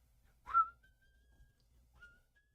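Faint whistling from a music track: a brief, soft whistled phrase with a sliding start, followed after a pause by a second short, quieter whistled note, alone with no talk.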